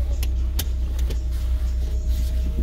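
Interior of a VW Citi 1.4i on a test drive, a steady low engine and road rumble with a few light clicks and knocks in the cabin.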